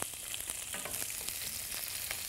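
Onion dropped into oil that is already hot and popping hisses in a steady, dense sizzle with scattered crackles, close and continuous, with nobody talking.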